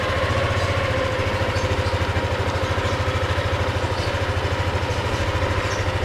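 A new motorbike's engine idles nearby, a loud, steady, fast putter with an even pulsing throb that continues without a break, with no talking.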